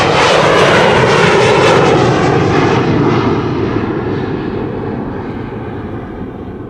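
A Delta A330 airliner departing Amsterdam Schiphol for Detroit, a loud, full jet roar that is strongest at the start and slowly recedes into the distance.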